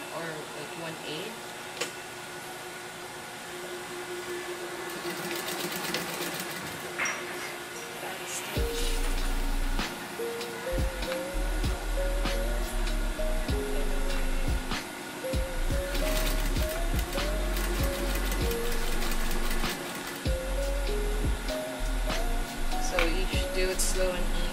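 A sewing machine stitches a Hong Kong seam slowly, its motor whirring in short start-stop runs of rising and falling pitch. Quieter handling noise and pauses come before the stitching settles into a steadier rhythm.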